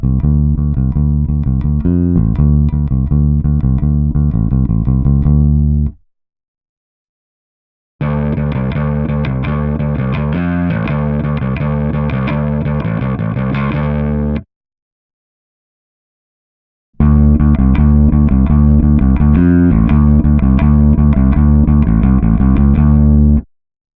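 Three electric guitar passages through a Kemper Profiler's parallel clean and amped paths, split by short silences, a thick, gritty distorted tone layered over a cleaner attack, played loud and sustained.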